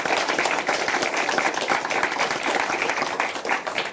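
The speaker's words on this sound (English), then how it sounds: "A round of applause, please, for the last member of our panel." Sustained audience applause at a televised EU debate, dense and steady throughout, many hands clapping together at a fairly loud level.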